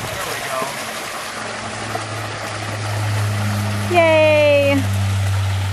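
A backyard waterfall pours into a pond with a steady, moderate rushing wash under a low hum, while a voice briefly exclaims partway through.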